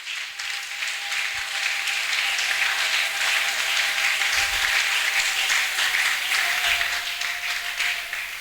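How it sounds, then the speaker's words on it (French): A church congregation applauds during a French-language worship and preaching service, a loud, sustained wash of clapping from many hands that fills the whole stretch. "Applaudissons pour Jésus."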